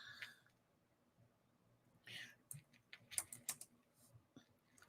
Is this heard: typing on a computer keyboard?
yes